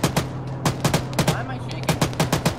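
A .50 cal machine gun fires in the military shooter Arma 3: loud, close, irregular bursts of heavy shots booming in quick succession over a low background hum.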